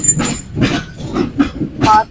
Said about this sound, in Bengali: আসলে ট্রেনের শব্দে কিন্তু কথা শোনা যাবে না